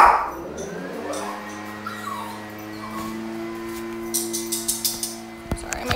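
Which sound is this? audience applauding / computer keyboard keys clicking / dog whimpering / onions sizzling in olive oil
dog whimpering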